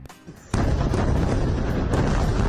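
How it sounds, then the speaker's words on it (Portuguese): Strikes on a Hezbollah weapons warehouse in Beirut set off a sudden loud blast, followed by continuous dense crackling and popping of secondary explosions, resembling fireworks heard from a distance. "Ouça o som das explosões. Parecem fogos de artifício, mas não, meus amigos."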